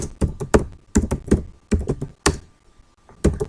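Fingers type a code comment on a computer keyboard, tapping out quick bursts of close, crisp keystrokes separated by short pauses.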